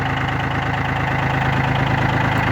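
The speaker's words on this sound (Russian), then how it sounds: "Трактор агрегатирован трехцилиндровым дизельным двигателем." Three-cylinder diesel engine of a Yanmar FX265 compact tractor idles steadily nearby, a low, even rhythmic throb with a slight knocking character, alone and constant throughout.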